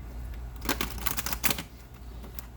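Tarot cards being shuffled nearby, a series of crisp papery riffling bursts over a low steady background hum, with no one speaking.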